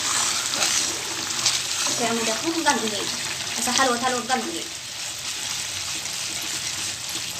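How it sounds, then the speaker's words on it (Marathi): A potato starch mixture bubbling and sizzling in a pan while being stirred for chilli potato, a steady crackle running beneath someone speaking over the middle part. "आता त्यामध्ये आपण हे कसं उकळतंय मस्त"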